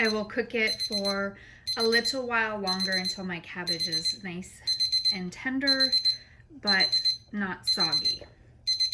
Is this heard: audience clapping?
no